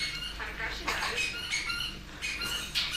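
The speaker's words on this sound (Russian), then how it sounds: "там какой-то наглый попугай сидит" Macaw parrot squawking in a room, several harsh bursts spread across the moment at moderate distance, with some faint background talk.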